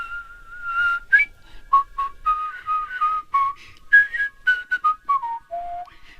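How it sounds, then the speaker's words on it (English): A person whistles a bright, lively melody of short separate notes, clear and close, with brief pauses between phrases. "that's good whistling."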